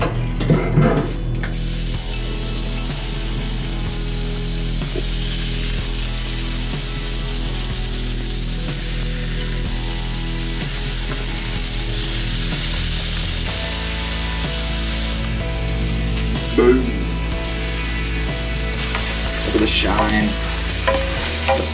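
A Cabernet reduction sauce for pistachio-crusted venison backstrap bubbles and sizzles loudly in a pan, a constant hissing wash broken by scraping stirs and a few clinks near the end, with no voices.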